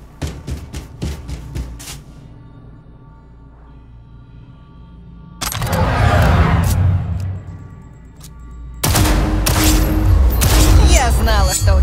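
Bursts of rapid gunfire crackle loudly in quick succession at a shooting range in the video game Cyberpunk 2077: Phantom Liberty, with a quieter stretch between volleys and a final sustained barrage of shots.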